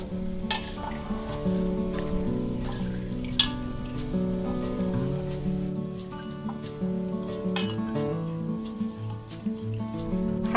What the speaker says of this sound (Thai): ตักกากหมูขึ้นได้เลยนะคะ